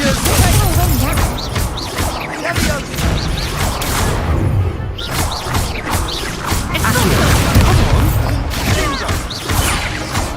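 The Expulso explosion spell fires in Hogwarts Legacy combat, with loud, repeated blasts, crashes and whooshes piling up continuously over a busy battle din.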